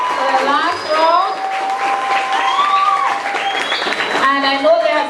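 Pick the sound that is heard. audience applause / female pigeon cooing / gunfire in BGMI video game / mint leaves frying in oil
audience applause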